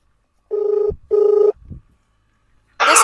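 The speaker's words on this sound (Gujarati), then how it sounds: "રિંગ જાય છે ભાઈ" An outgoing phone call rings back with two even electronic tone bursts, close and clear against near silence, followed by a short burst of noise at the end.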